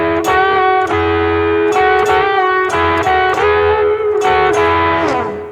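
Electric guitar chords ring out in a steady strumming rhythm, with two strings bent together as a double-stop quarter bend so the pitch bends up a little, loud and close.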